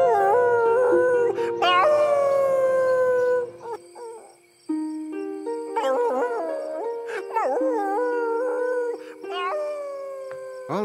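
A cartoon dog howls in long, wavering, tonal wails, loud and close, rising and falling in pitch across several drawn-out cries with short breaks between them.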